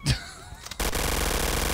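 A cannon fires in the video game Trouble in Terrorist Town, with a brief sharp blast followed by a loud sustained burst of rapid gunfire-like rattling, under faint voices.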